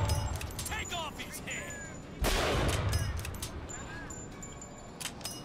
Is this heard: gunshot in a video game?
yes